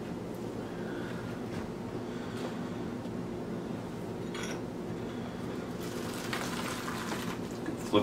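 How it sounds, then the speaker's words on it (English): Spam slices sizzling in a pan on a cooktop, a steady close crackle and hiss throughout with a brief brighter burst of spatter near the end. "Fried spam."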